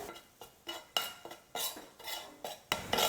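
Egg masala is stirred in a pan on a low flame, giving faint, rhythmic scraping strokes of a spoon against metal about twice a second, with only a light sizzle beneath.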